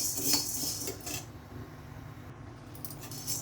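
Sago pearls dry roasting in a pan, giving a steady close rattle and scrape of small hard grains against metal, with brief clinks and sharp ticks throughout.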